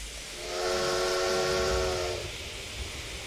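A steam locomotive on the Welsh Highland Railway at Ffestiniog in Train Simulator sounds a steady whistle for about a second and a half, over a low rumble of the train pulling away.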